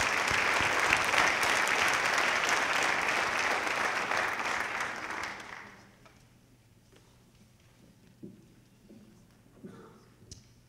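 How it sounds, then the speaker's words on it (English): Audience applause at a high school academic awards ceremony for an award recipient, sustained clapping from a crowd for about five seconds before fading to a quiet hall with a few small knocks. "let's give her a round of applause"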